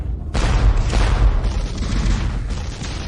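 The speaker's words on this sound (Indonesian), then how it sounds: "Teruslah menembak." A cannon in an animated series fires repeatedly, making a sustained, loud, rumbling roar of overlapping blasts that starts abruptly and fills the whole moment.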